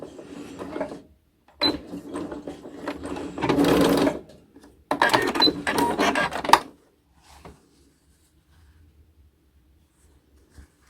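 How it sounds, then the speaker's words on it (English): A sewing machine back stitches the end of a seam on a kids' fabric face mask, running in several short, close-up bursts of rapid clatter that stop and restart before a quiet tail with a faint click. "And the back stitch at the end."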